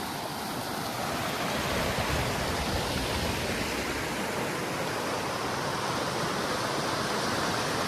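Gold Brook, a stream flowing near a covered bridge in Stowe, Vermont, makes a steady, dense rushing roar. The sound is unbroken throughout.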